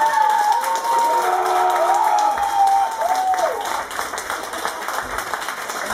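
An audience at a concert in Belgorod applauds, with dense sustained clapping from a large crowd over a wavering tone that fades slightly toward the end.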